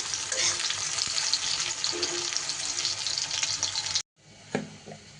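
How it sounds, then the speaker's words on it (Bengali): Thinly sliced onion frying in hot oil to make crisp beresta, a loud, dense, steady sizzle heard up close, then a sudden cut to a quieter moment with a single clatter. "এইবার এই পেঁয়াজটাকে বেরেস্তা তৈরি করে তুলে নিতে হবে"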